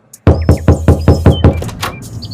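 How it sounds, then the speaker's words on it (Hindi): A door is knocked on by hand in a close, loud run of about eight sharp raps, evenly paced at first and then slightly looser, with nothing else around them. "दोबारा दरवाजा खटखटाता हूँ।"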